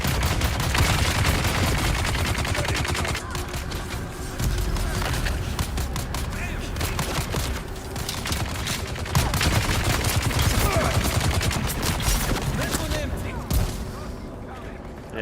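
Dense, sustained gunfire in the survival game Dune Awakening, rapid shots packed into a loud, nearly continuous barrage that thins out briefly before the end.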